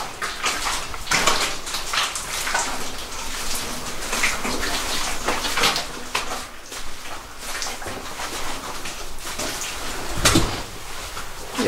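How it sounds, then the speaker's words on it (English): Footsteps squelching and sloshing through wet mud inside a mine tunnel, a string of irregular close-up splashes and sucking sounds with a louder splash near the end. "This is noisy mud."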